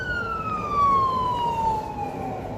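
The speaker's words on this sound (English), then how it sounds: "this is a Bisbee Fire Department ambo headed to a call back up in Old Town" A Bisbee Fire Department ambulance siren wails steadily as it passes through Old Town in Bisbee, Arizona, its pitch sliding slowly downward over a low road rumble, fairly loud and drifting away.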